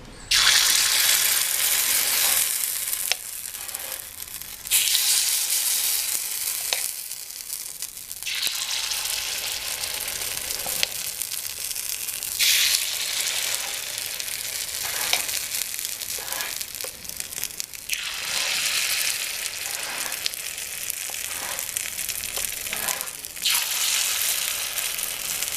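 Carrot ponganalu batter sizzles in ghee in the cups of a paniyaram pan, a loud, continuous crackling hiss that swells and fades in waves over a long stretch with no talking.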